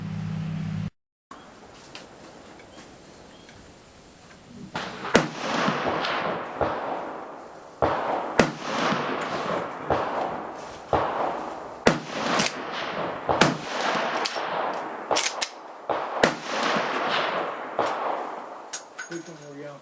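Steyr M95 long rifle in 8x50mm firing several sharp shots outdoors, loud cracks spaced irregularly over a background of noise and light movement, no talk.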